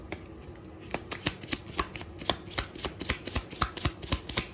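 Tarot cards being shuffled by hand, a quick run of crisp papery riffles and soft taps in an uneven rhythm, close and moderately quiet, with no one speaking.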